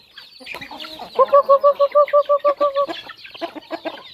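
Chickens clucking close by in a rural Thai yard, a run of even, rhythmic clucks in the middle with scattered bird chatter before and after.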